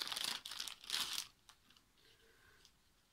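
Plastic packaging around a rubber stamp being opened: loud close crinkling and tearing in two bursts, then quieter handling rustles and a soft tap.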